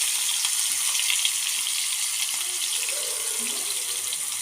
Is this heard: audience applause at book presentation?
no